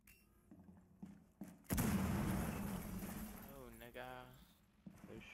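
Gunfire in Rainbow Six Siege, an abrupt loud burst of shots followed by sustained rattling fire that fades over a few seconds, with a few faint taps before and after.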